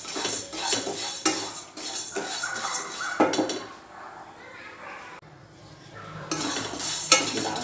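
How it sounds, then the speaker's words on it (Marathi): Urad dal dry-roasting in a pan for chakali bhajani flour, with a utensil scraping and stirring the lentils against the metal in steady, close, moderately loud strokes and brief pauses. "उडीद डाळ पण आपल्याला दोन मिनिटं भाजून घ्यायची।"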